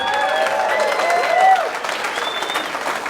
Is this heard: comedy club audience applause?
yes